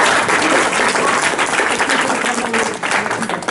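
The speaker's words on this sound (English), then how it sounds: "Let's give him a quick round of applause." Steady, dense applause fills a room during a timeout, a continuous wash of many hands clapping at close range that fades slightly near the end.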